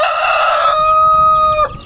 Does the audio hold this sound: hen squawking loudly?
yes